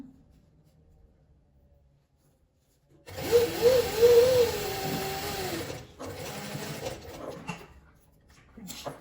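A sewing machine stitches fabric for a cylindrical makeup bag, starting after near silence with a steady, close mechanical hum and needle chatter for about three seconds, a short pause, then another run.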